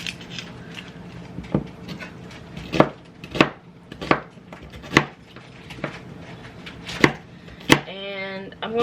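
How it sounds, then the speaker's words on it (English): A knife rough-chops an onion on a cutting board in an irregular series of sharp knocks, about a dozen strikes, ending with a brief clatter. "I don't have any certain way I'm chopping. I'm just rough chopping."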